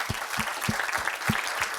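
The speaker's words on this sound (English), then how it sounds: "we're actually also getting the financial muscles to innovate for real. So with that, I would like actually that we start to give a round of applause to ourselves" An audience at a women's health innovation conference claps, a short burst of scattered, fairly even hand claps filling the room with no one speaking over it.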